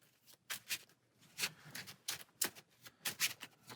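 Cards for the Marvel Champions card game being shuffled by hand, a series of quick close riffling bursts with short pauses between them, fairly quiet and with no talking.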